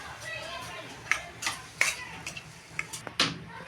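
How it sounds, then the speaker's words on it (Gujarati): A spoon scrapes and clinks against a pan while coriander is stirred into a makai chavdo corn dish with the gas turned off, giving a few sharp metallic taps among soft scraping, close up, without talk. "આપણે એને સરી હલાવી નાખીએ"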